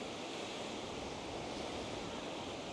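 Waves wash onto a huge beach as a steady, faint, broad rush of surf and wind noise with no distinct breaks.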